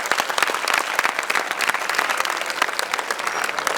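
Students at D.S. Science Academy in Gangapur City applaud together, a close, lively burst of clapping with irregular sharp claps standing out from the crowd.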